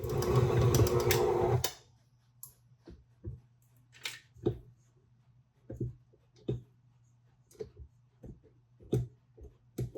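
A stand mixer works flour into dough with a loud, close motor whir that cuts off after under two seconds, leaving scattered light clicks and knocks of kitchen handling in quiet.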